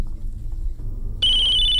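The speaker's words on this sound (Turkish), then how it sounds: "Şu telefon çalıyor lan." A telephone bursts into a loud electronic ringtone after a second of low rumbling room noise, the shrill ringing continuing steadily to the end.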